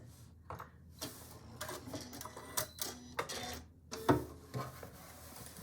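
A sewing machine back stitches a quilt square in short, fairly quiet runs of rapid mechanical ticking and whirring, starting and stopping several times at close range.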